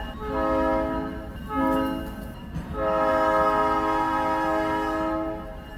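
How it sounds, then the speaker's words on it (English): Train passing in the background outside a forge, its horn sounding in three long blasts over a steady rolling rumble of rail cars. "I got a train in the background."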